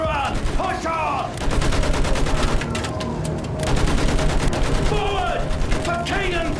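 Rapid bursts of gunfire, machine-gun fire among them, on a World War I battlefield in Battlefield 1, loud and dense throughout, with shouted voices under the shooting.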